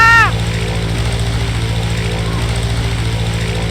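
A biplane's propeller engine in the Brick Rigs video game drones loudly and steadily with a fast, buzzing pulse, after a brief rising whistle at the very start.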